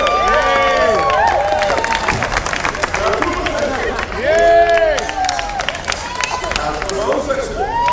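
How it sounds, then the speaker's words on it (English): A live audience claps and cheers for a performer, with dense, continuous clapping. Whoops and shouting voices ride on top throughout. "A big round of applause to our shots of Will Jackson."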